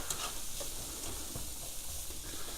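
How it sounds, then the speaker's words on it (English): Peppers and onions with herbs sweat in a pan, giving a soft, steady sizzle with a faint crackle throughout, quiet and without voices. "We're going to let these sweat down a little bit before we throw our sausages in."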